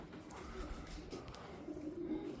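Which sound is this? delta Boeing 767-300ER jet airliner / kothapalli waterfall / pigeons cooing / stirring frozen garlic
pigeons cooing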